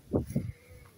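A sheep lets out a short, wavering bleat in two quick pulses, fairly faint and a little distant, outdoors in a countryside yard among old abandoned cars.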